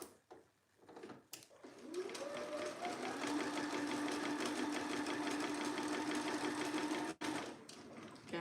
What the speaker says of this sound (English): we're going to do 2 rows of stitching within the seam allowance